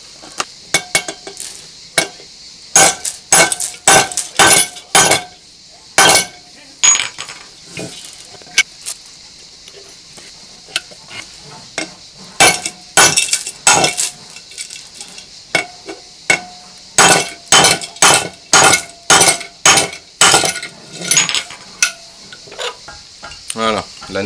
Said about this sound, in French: on va écraser avec un marteau les 2 parties